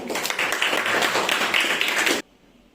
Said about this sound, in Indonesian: Tepuk tangan ya buat kelompok 1.